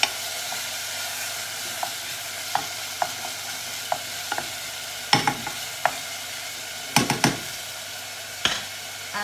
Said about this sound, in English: Just stir it around a little bit.